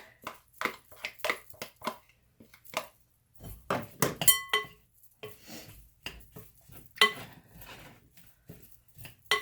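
Kale and cauliflower salad with tomatoes and artichoke being tossed in a bowl, with irregular clatters and clinks of utensils against the dish in close, uneven bursts.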